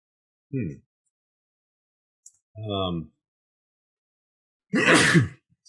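A single sneeze erupts sharply near the end after two short breathy vocal sounds, heard close against an otherwise silent background.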